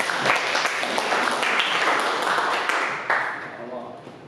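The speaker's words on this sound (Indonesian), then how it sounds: "tepuk tangan untuk Mas Kang" An audience in a micro-teaching classroom session claps together, a dense burst of applause that stays strong for a few seconds and then fades, with voices mixed in under the clapping.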